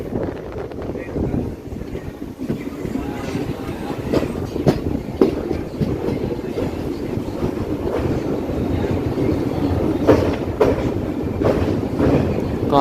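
A train rolls across the Netravati river bridge on the Kanhangad–Mangaluru line, a steady close rumble of wheels and carriages with recurring sharp rail clicks and some wind buffeting, with no voices.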